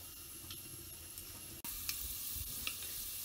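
Cloves, cardamom and pepper hit hot oil, setting off a sudden loud sizzle that continues as a steady frying hiss with faint stirring scrapes, heard close up without any voices.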